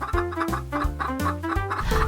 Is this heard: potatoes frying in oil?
no